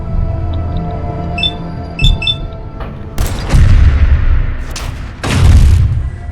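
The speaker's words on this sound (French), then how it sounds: "Ça fait quoi un critique sur une tourelle?" A critical hit on a turret in Fallout 4 sets off heavy booming impacts: soft early blips give way to loud, broadband blasts around the middle and again near the end, with rumbling low thumps between.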